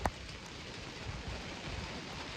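Steady rain falls on a farm during grain harvest, a soft continuous hiss and patter with no voices, fairly faint and even throughout.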